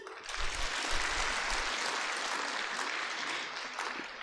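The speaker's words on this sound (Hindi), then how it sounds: "ताली बजाओ" An auditorium audience at a stage programme for an inauguration bursts into full, continuous clapping that stays dense and even for about four seconds, with no talking over it.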